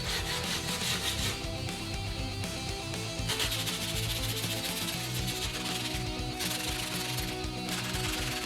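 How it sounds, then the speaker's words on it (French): Cut skateboard griptape rubbed hard along the edges of a deck gives a continuous coarse, gritty scraping with steady back-and-forth strokes, close and fairly loud, with no voices. "partie du grip que vous venez de découper et frottez bien le long des bords"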